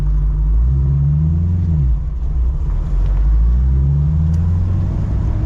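A 1968 Mustang Fastback engine idles and runs in first gear with a steady, loud low rumble, its pitch rising and falling in slow swells as the revs change.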